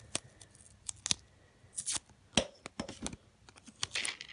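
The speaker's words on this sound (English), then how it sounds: "I'm going to add some more tape to the back." Double-sided tape is peeled and pressed onto the back of a shaker card, producing sharp, scattered crackles, tearing rips and taps up close with no talking.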